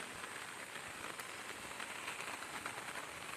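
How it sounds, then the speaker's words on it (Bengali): Light rain patters steadily on a rooftop, a soft continuous hiss of drops with no distinct gaps and no talking. "একটু বৃষ্টি হচ্ছে, ঠিক আছে।"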